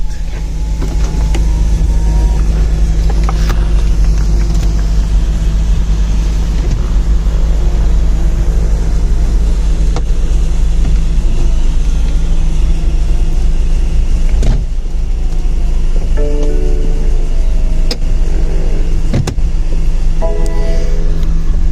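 A 2019 BMW 218i convertible powers its roof open at the press of a button, giving a steady electric motor whir over a low hum with mechanical clicks and a latch clunk near the end.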